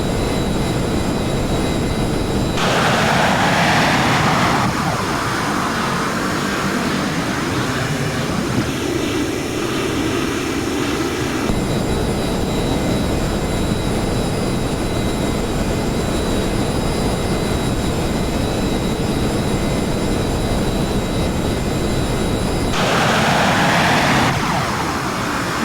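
Steady, loud roar of the B-1A bomber's jet engines in flight in a flight simulator game, a continuous wide rushing drone with slight swells near the start and end and no talking.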